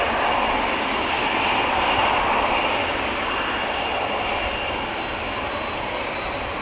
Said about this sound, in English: To line up here and take off is KLM Flight 601. That's the 787-10 Dreamliner with the KLM 100 years special livery